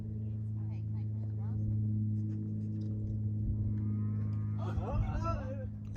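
Cattle on an off-grid farm low and moo, a strong harmonic lowing drawn out over a steady low drone, with a voice speaking nearby through the middle.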